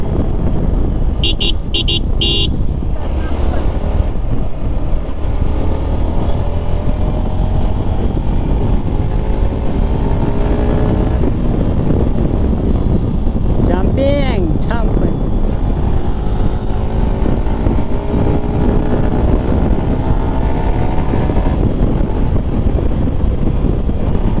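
A motorcycle is ridden along a road near Bhandardara, its engine droning steadily under rushing wind for the whole stretch, with a quick series of horn toots near the start and a brief chirping sound midway.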